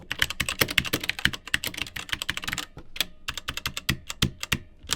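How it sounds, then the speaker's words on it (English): Fast, steady typing on a cheap AliExpress laptop's keyboard, dense clicky keystrokes close up with a short pause near the middle, solid rather than rattly. "what's interesting to me is that it doesn't clatter and ring in the way that cheap mechanical keyboards often do"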